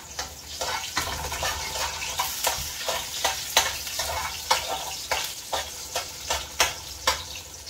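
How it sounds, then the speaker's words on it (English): Pumpkin frying in a pot for a Guyanese-style seven curry, a constant hiss of oil broken by rhythmic spoon scrapes and taps roughly every half second, close and moderately loud, no speech. "So I'm gonna fry it up"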